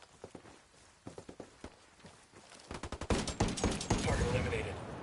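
Rapid bursts of gunfire in the video game Ghost Recon Wildlands, starting as scattered single shots and swelling into dense, loud automatic fire with overlapping volleys.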